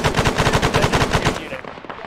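A machine gun in the military video game Arma fires a sustained, steady rapid burst of loud, close shots across a field, stopping abruptly just before the end.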